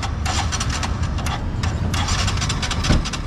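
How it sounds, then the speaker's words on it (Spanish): A motorcycle engine sputters with intermittent cranking pulses after the fuel valve is opened, loud and close, ending with a brief rise near the end. "Ahorita lo vamos a abrir y tiene que prender la moto."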